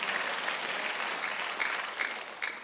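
Congregation applauding during a Korean Sunday church worship service, a steady wash of many hands clapping at moderate level with occasional louder surges, no voices over it.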